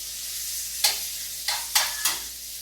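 Already-cooked shrimp tossed in a pan to warm, with four quick sizzling bursts as they are flipped, quiet between tosses.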